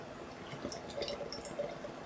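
Beavertown Neck Oil beer pours into a glass as a soft, faint stream of trickling and bubbling liquid with small splashy drips, close by and without talk.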